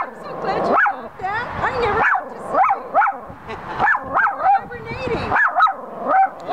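A small rat terrier–chihuahua mix barks repeatedly in sharp, high yips, close by, with a person talking intermittently between and over the barks.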